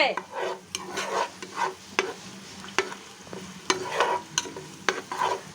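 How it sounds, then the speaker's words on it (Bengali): Onions for beef bhuna sizzling in hot oil while a utensil scrapes and stirs the pan in repeated strokes, close and fairly loud. "তেলের মধ্যে আমি পেঁয়াজটা দিয়ে দিয়েছি"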